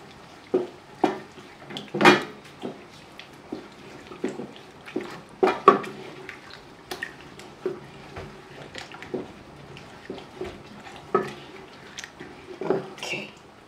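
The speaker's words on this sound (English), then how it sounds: "give it a good stir and allow it to fry for a few minutes." A red stew frying in a pot is stirred with a spoon: irregular clanks and scrapes against the pot come close and fairly clear, with quiet pauses between strokes and no talking.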